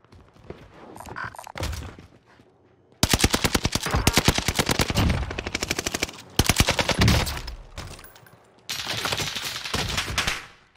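The H4 Blixen SMG fires in Call of Duty on Rebirth Island. Three long, loud, rapid full-auto bursts are separated by short pauses, and quieter game sounds come before the first burst.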